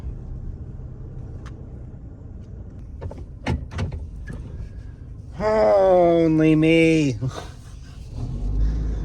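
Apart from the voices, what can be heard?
truck driving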